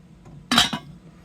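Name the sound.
lid placed on a Salter slow cooker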